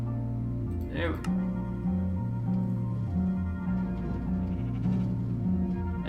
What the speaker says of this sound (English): That sheep almost killed me.